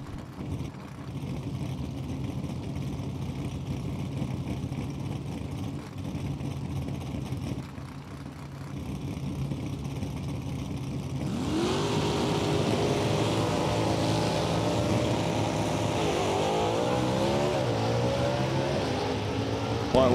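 A Buick and a Hemi Cuda drag racing down the strip at Lucas Oil Raceway, a distant engine drone swelling into a loud rising high-revving roar with gear shifts as the cars launch and pass.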